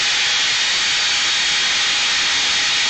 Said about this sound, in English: you got a vice grip, just take your wire brush wheel